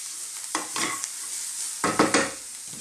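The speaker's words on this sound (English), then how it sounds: "You see like them onions there burning nicely." Onions and beef for a Chinese beef and green bean stir fry sizzle steadily in a hot pan, with bursts of stirring scrapes at close range and no talking.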